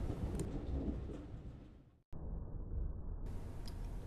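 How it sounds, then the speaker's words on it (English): Low rolling thunder from a nearby lightning storm, a broad rumbling roar with a short dropout midway, moderately faint and alone without talk. "I can see the sound spikes caused by thunder"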